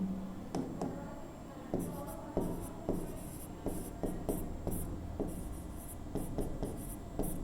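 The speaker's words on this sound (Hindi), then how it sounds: "तो हम यहाँ पे लिखते हैं" Chalk on a classroom board makes a series of short taps and scratchy strokes with brief pauses between them during a physics lesson, close and fairly clear.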